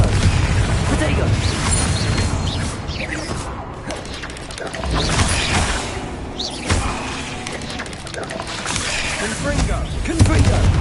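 Bombarda and Confringo spells detonate in Hogwarts Legacy on PS5: a dense run of booming blasts, crashes and whooshes that barely lets up, loud and close, with a voice talking over the clamor.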